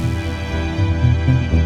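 Rhythmic synth pulses from the UVI Subculture library in a hybrid action cue, a dense, steady pulsing bed with low throbbing layers that stays continuous and fairly loud throughout.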